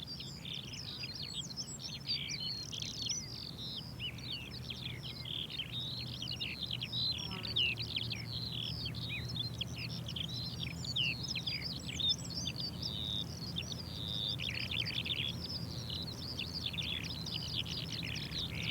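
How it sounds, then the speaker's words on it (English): Young wheatears give repeated high, thin calls and chirps throughout, layered over a quiet low background hum in an outdoor setting. "Before much longer, there are juvenile birds around, like these young wheatears."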